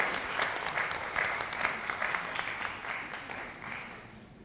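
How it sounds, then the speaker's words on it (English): A conference audience at an international coconut oil conference applauds Dr. Verman, a steady round of many hands clapping with crisp claps close by, gradually fading toward the end. "Please have a big round of applause to Dr. Verman for her generous work"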